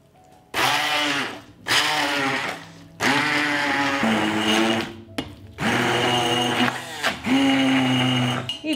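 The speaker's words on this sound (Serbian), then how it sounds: "i meso ću usitniti štapnim mikserom" Immersion stick blender chopping meat in broth with gelatin, running in loud bursts of roughly a second or two separated by short pauses, whining and grinding close by with no talk.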